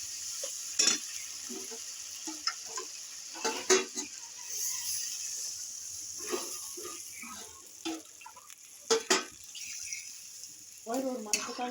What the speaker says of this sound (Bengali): এবার একটু নাড়াচাড়া করে আমি জল দিয়ে দেবো